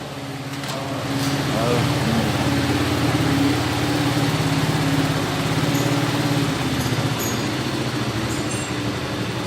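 A homemade CG engine built into a three-wheeled motorcycle runs close by with a steady, throbbing drone that holds from start to finish.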